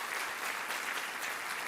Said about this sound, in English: And how about a round of applause for Debbie Dingo?